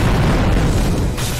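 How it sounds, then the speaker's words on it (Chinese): A dense, sustained booming explosion from a skill break attack in the Japanese fantasy RPG mobile game BLADE XLORD, loud and continuous with heavy low rumble throughout. "我开始 break 技能发到最后开始爆炸"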